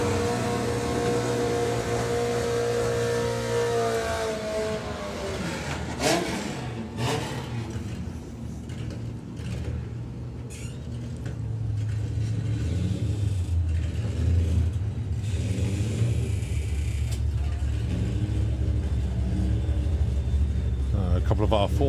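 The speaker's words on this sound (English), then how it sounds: "A couple of our 4-cylinder racers." Four-cylinder drag racing cars at a doorslammer drag meet rev and accelerate, a loud sustained engine roar that swells and shifts over about twenty seconds amid constant crowd and track noise.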